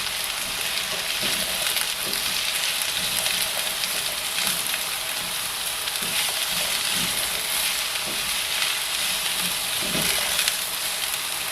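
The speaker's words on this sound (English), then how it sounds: "You'll cook this until the onion's translucent, so about a minute or two. Doesn't take long on the cast iron." Chopped onion and sausage sizzle steadily in a cast iron pan for Thanksgiving sausage stuffing, a loud, continuous frying hiss with faint stirring scrapes, no talking.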